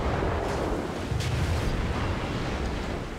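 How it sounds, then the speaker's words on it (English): Naval guns firing 5-inch shells in World of Warships, heavy booming blasts over a continuous rumbling battle din, loud and dense, with a sharper report about a second in. "Fire off a couple shells his way"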